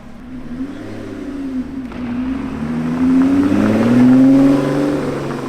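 A Lotus 3-Eleven 430 accelerates with a rising engine note that climbs through the revs and swells louder, heard from inside the open car with no talking.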